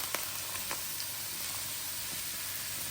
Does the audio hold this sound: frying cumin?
yes